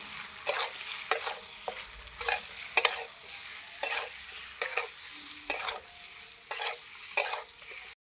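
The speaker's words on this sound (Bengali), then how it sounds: "এবার ঝিঙে আলু মশলা ভালো করে কষাবো" Ridge gourd and potato stir-fried in ground spice paste in a pan: a steady close sizzle broken by repeated scraping stirs about every half second to second, no talking.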